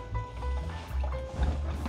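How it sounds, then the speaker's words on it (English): Kuli kuli peanut balls dropped into oil at about 325 degrees, frying with a steady low bubbling and sizzling close by, no talking. "Wow, that thing's bubbling."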